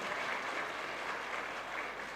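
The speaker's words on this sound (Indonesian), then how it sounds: "Silakan tepuk tangan untuk diri Anda," An audience claps together at a spiritual talk, a dense, even wash of applause that holds steady throughout, with no voices over it.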